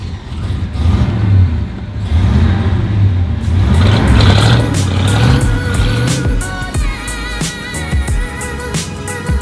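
An all-original 396 classic car with a four-speed revs loudly and close by at a cruise-in, the engine rising and falling through several throttle blips with a rough, rumbling tone.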